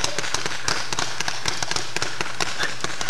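Enemy gunfire in Battlefield 2, a steady stream of sharp, fairly quiet shots and cracks in irregular quick succession over constant game background noise.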